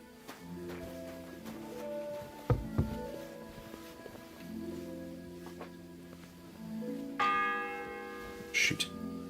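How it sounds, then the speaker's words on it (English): A church bell in Kingdom Come: Deliverance II tolls the hour, several resonant strikes ringing out at moderate distance over low ambient game sound, with a brighter burst near the end. "It's the 8th bell."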